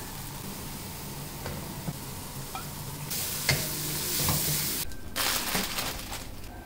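Ingredients for a mashed bhorta fry in a pan until reddened, giving a quiet sizzle that swells louder midway, with scraping stirs and light clinks of a spatula.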